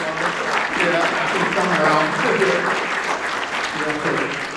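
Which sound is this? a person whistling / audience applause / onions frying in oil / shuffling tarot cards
audience applause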